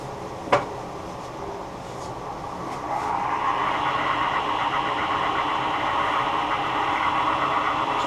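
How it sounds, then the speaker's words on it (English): Loose rear spindle bearing on a Laguna 12/16 wood lathe: a steady mechanical whir that swells and brightens about three seconds in and holds, with a sharp tick near the start. "That unusual whirring sound you hear is caused by the rear bearing on the spindle not being held firmly in place"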